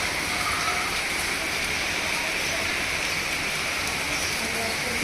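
A heavy downpour during Cyclone Remal, a loud, even, unbroken roar of rain falling on surfaces, steady for the whole stretch with no voices.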